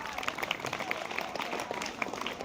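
A room of audience members applauding together at a children's talk on gut health, fairly soft and steady clapping with scattered sharper claps throughout.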